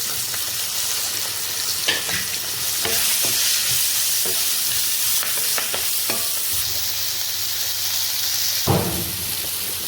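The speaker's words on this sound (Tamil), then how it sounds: "இதோட கட் பண்ணி வச்சுருக்க வெங்காயம்" Chopped onions sizzle and fry steadily in a hot pan, with a continuous hiss and occasional scraping stirs of a spatula, close and fairly loud throughout, for a country chicken curry.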